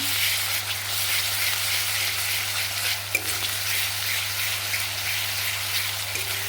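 Ginger garlic paste and ground tomato frying in a pan in a village kitchen, giving a steady, dense sizzle with a constant low hum beneath and one small pop partway through.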